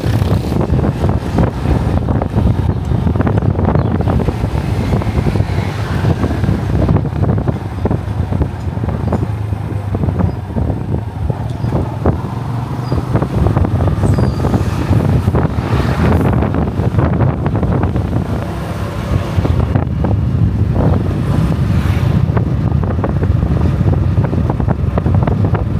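Heavy wind buffeting the microphone while riding a motorbike in hilly country near Moshi, Tanzania, a loud continuous roaring rush with gusty surges and faint engine rumble underneath.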